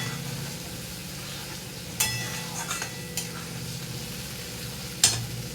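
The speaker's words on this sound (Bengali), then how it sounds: "দেখো আমার কষানো হচ্ছে, এখনও কষতে হবে।" Tomato paste sautéing in a pan for a vegetarian potol (pointed gourd) dish, giving a steady low sizzle and frying hiss with a few sharp stirring clinks and scrapes, close and moderately quiet, with no one talking.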